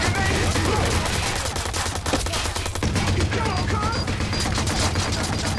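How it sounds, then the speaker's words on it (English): Sustained bursts of automatic gunfire from the video game Watch Dogs, loud and rapid, with a dense stretch of overlapping shots that carries on throughout. "Are you even shooting at me?"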